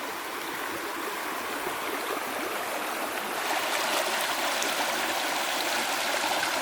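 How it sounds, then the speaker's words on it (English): A small forest stream in rural Portugal rushes and burbles steadily, close and fairly loud, a continuous broadband wash of flowing water that swells slightly partway through, with no voices. "we're in the forest now, but we can hear the water. And here's a stream."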